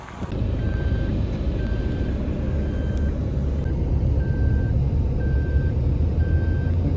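Evenly spaced electronic reversing beeps, about seven of them, pulse from a vehicle backing into a parking spot over a loud, steady engine rumble. No one speaks.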